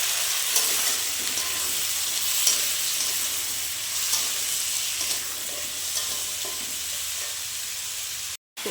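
Pumpkin and potato with shrimp frying in a pan, a bright continuous sizzle with occasional stirring scrapes, loud and steady until a brief cut near the end.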